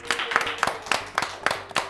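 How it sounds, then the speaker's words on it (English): Studio audience clapping for the third-place contestant at a school quiz show results announcement, a sparse run of distinct individual claps at an uneven rhythm, moderately close, with no voices over it. "Let's give him a big round of applause."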